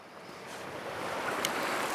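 Water in a river rushes steadily nearby, a broad even hiss that grows slightly louder, with faint wind and no talking.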